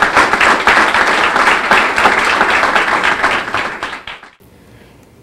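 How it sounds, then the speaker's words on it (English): Audience applause for the Premier of the Virgin Islands at a youth apprenticeship program event: a loud, dense burst of clapping that holds steady for about four seconds, then fades quickly into near silence. "I want you to give the Premier of the Virgin Islands a round of applause."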